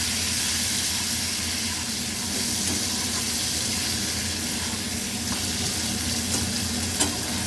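Potato and yardlong bean pieces fry in a pan with turmeric and salt, giving a steady close sizzle and hiss with no talking.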